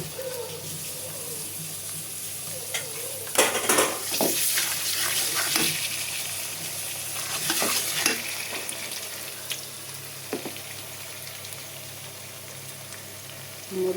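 Garlic, coriander and cumin sizzle steadily in a hot pan for khichuri, a continuous crackling fry with stirring bursts and brief clatter, close and fairly loud, with no voices.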